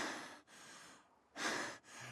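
Heavy, loud breathing from a man in a cartoon comedy scene, a series of drawn-out breaths with short pauses between them, close and alone with no talk.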